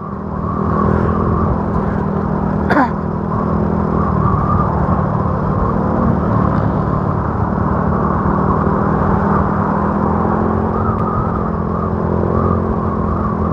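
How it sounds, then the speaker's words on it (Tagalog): Motorcycle ridden along a country road in the Philippines, heard from the rider's seat: a steady, continuous engine drone with wind rush holds throughout, and a brief sharp whine passes near the start. "Para na rin kayong nakaangkas dito sa motor ko."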